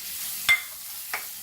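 Masala frying in oil over a low flame, a soft steady sizzle with two brief stirring scrapes, the first louder than the second.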